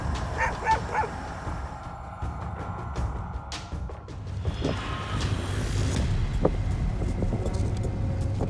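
A pack of dogs barks at a bear near a camp. Scattered yips, barks and whimpers rise over a low rumbling background, fairly distant and faint, with no talking.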